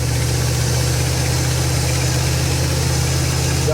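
A 1977 Dodge motor home engine running steadily in gear while the vehicle moves, a loud continuous low drone with a constant hum and vibration.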